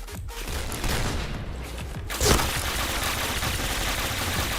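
Gunfire in the video game Point Blank crackles as a continuous, dense barrage with a sharper louder burst midway, close and harsh throughout.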